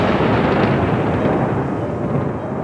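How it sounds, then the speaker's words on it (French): Deep thunder roll rumbling continuously and loudly, a dense low boom with no distinct cracks, sustained throughout without any voices. "il y eut du tonnerre"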